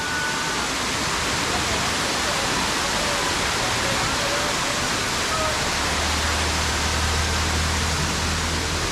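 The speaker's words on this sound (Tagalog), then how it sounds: "Dito niyo yung falls, mga brother." A waterfall roars steadily and close, a dense, unbroken rush of falling water filling the whole stretch.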